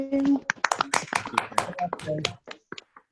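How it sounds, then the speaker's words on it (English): Remote participants off mute give a scattered round of applause, with uneven claps and taps from separate microphones mixed with bits of voice and fading out toward the end. "try and do a round of applause in the traditional way to say thank you"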